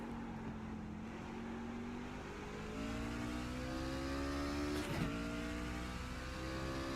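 A V8 race car engine in a racing sim at Mid Ohio hums steadily and rises in pitch through the gears over a lap, fairly faint and continuous with no talk.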